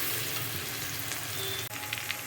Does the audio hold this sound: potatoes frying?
yes